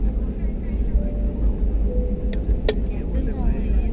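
An airliner takes off from Chennai, heard from inside the cabin as a strong, steady low engine roar with a few brief higher clicks and knocks over it.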